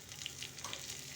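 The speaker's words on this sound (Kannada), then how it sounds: "ಬೆಳ್ಳುಳ್ಳಿ ಜಜ್ಜಿ ಹಾಕಿ ಒಗ್ಗರಣೆ ಅಷ್ಟೇ, ಇನ್ನೇನಿಲ್ಲ" Crushed garlic sizzles in hot oil for a sambar tempering, with a steady close crackle and a few brighter pops over about a second, and no voices.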